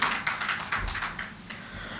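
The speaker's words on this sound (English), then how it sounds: "Please give her a huge round of applause" Scattered applause rises from an audience at a national gynaecology and fertility conference and awards ceremony in Mumbai, a thin run of distinct claps that sounds like only a few people clapping.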